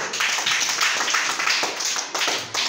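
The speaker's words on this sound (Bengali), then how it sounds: "ওর জন্য একটা হাতের তালি" A primary school Bangla class applauding together, a loud spell of brisk, fairly even hand claps from many children close by, with no talking over it.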